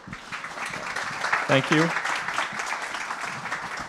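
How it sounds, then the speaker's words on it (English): An audience applauds a speaker at a resilience science session at the Resilience Hub at NYC, a steady wash of clapping running the whole time with a brief spoken thanks over it midway. "A round of applause"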